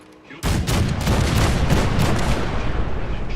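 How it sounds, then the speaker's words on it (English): Cannons fire on approaching raiders in a video game: a sudden loud blast at the start rolls into a dense, continuous barrage of booming shots that keeps going to the end. "Soldier, man the cannons."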